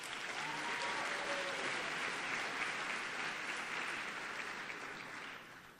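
Steady applause fills a high school honors convocation hall as seniors are recognized, a dense, even clapping from a large audience lasting about six seconds and easing slightly at the end.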